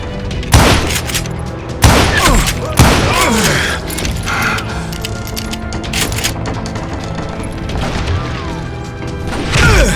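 Repeated gunshots ring out in the Western shooter Call of Juarez: Gunslinger, loud sharp cracks in bursts early on and scattered shots afterward over a busy game soundscape.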